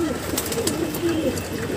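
A pair of pet pigeons coos in soft, repeated throaty calls, close by and overlapping in a gentle rolling pattern, over faint background noise.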